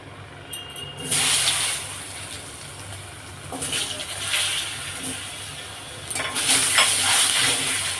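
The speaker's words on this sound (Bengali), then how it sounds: "আলুগুলো একটু ভাজা ভাজা করে নিই" Potatoes frying in oil in a pan after fish, producing a bright hissing sizzle that swells in bursts as pieces are added and moved, close and moderately loud.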